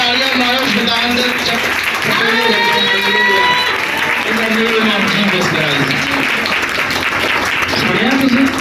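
A church congregation claps hands together in a dense, continuous wash of applause, with a preacher's voice talking and shouting over it throughout.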